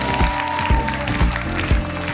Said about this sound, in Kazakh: Дуғал шапалақтарыңызбен.